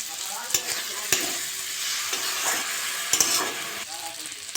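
A little water splashed into cauliflower frying in a pan with salt and chili powder, producing a loud, close hissing sizzle with scraping stirs and a few sharp spatters.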